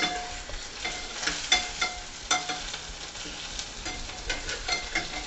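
Coconut-stuffed green chillies fry in an open pan and are turned over: a soft, steady sizzle close by, broken by light scrapes and taps as they are flipped.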